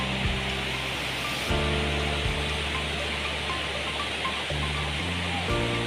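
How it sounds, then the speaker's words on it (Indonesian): Grojogan Sewu waterfall in Tawangmangu roars as a steady, dense wash of falling water heard from a viewing spot, with voices talking faintly over the constant rush. "Nah ini air terjun dilihat dari sini"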